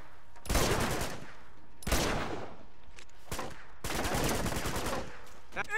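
Gunfire in Uncharted: Among Thieves, chapter 5 urban warfare, comes as loud bursts of rapid shots in several clusters with brief gaps between them, close and without talking.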